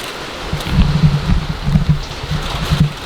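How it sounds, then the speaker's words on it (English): Rain falling outdoors in a yard: a steady soft patter across the whole clip with denser bursts of drops spattering on a surface, fairly close, and no talk. "Get out of the rain, Bob, big dummy."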